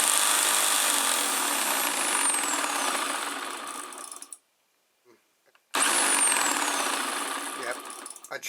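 A loud, high-pitched whine of a power drill spinning shredder cutting disks at about 3000 rpm runs steadily, cuts out for about a second and a half, then starts up again.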